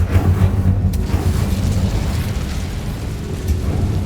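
Casting the Incendio fire spell in Hogwarts Legacy produces a loud, sustained roaring whoosh with a deep rumbling body, like a burst of flame, continuing steadily across the moment.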